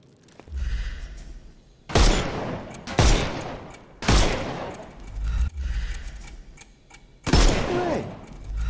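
Video game gunfire blasts away at enemies' armour in heavy, booming bursts, about six loud shots or volleys spaced roughly a second apart, each trailing off in echoing decay.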